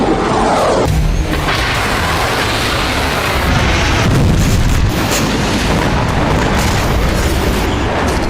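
Soviet-made Katyusha rocket launcher of the kind used by Hezbollah, firing: continuous loud roaring rumble with booming blasts and a dense, noisy rush sustained for the whole stretch, no talk.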